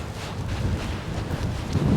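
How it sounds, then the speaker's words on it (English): Wind gusts at the shore, buffeting the microphone with a loud, rumbling roar that rises and falls in uneven waves, with no talking. "Oh, it's windy."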